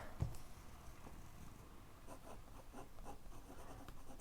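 Fountain pen nib scratching across paper while writing a note, faint and close, with light irregular strokes and no talk.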